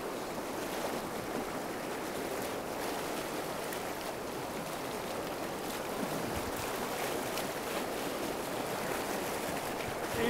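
A fast-flowing trout river rushes steadily in a continuous broadband wash of water noise, close by and unbroken, with no voices.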